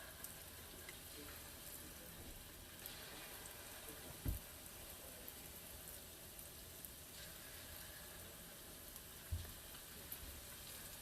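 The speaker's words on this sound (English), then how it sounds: "It's very important for you to fry it in medium heat, so that way it cooks all the way inside." Puff-puff dough balls deep frying in oil over medium heat, a faint, steady crackle and bubbling hiss that runs throughout, with a couple of brief clicks.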